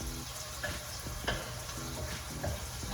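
Onion frying with partly cooked sweet potatoes in a pan for a breakfast hash, a steady soft sizzle with occasional scraping stirs and clinks, fairly quiet and close.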